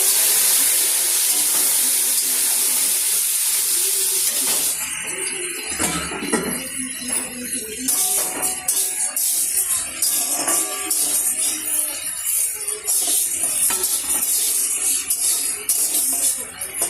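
Frying in a wok, a continuous loud hiss and sizzle with bursts of spattering and clatter throughout, steady and close.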